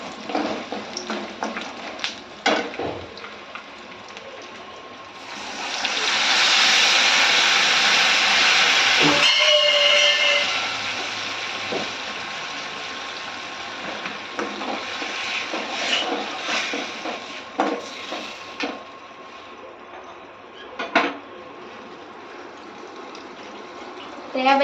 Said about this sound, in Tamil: இப்போ வெங்காயம் இந்த அளவுக்கு வதங்கினதுக்கப்புறம் நாம் கரைச்சி வச்சிருந்த புளியை சேர்த்திக்கலாங்க